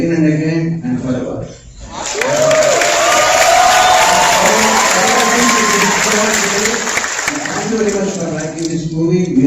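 A large audience claps and cheers steadily at an RRR film team event in the USA, a dense, loud wash of applause with some whoops, following a short spoken line at the start and with a voice returning near the end.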